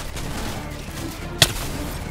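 A single sharp gunshot cracks out once in a Fortnite match, rising briefly above a murky, continuous game background.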